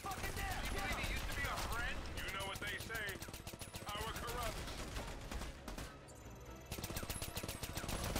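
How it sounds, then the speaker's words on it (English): Enemy gunfire in the Army of Two video game, a rapid, continuous automatic-weapon barrage with dense rattling bursts over loud combat noise, briefly dipping before resuming at full intensity. "Alright, they're all firing at me."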